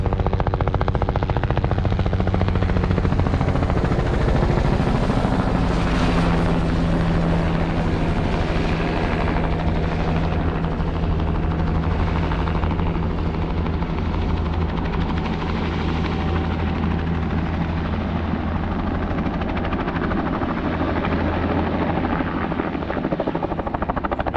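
A helicopter ferrying hikers' packs and gear at Havasupai thunders close by, its loud rotor chop and turbine whine continuous throughout with slight shifts as it maneuvers.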